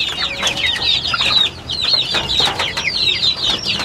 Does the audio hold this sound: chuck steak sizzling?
no